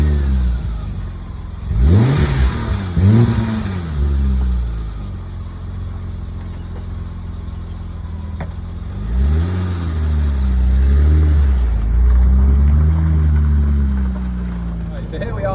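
A BMW Z1 roadster engine revving up close from inside the car as it pulls away on a drive, with rising and falling revs in two separate bursts of acceleration.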